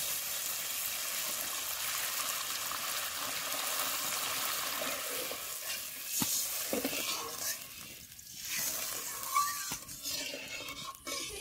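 Water goes into spiced masala frying in oil for egg curry, bringing a broad hissing sizzle that eases into bubbling and a few scraping stirs and clinks from the pan.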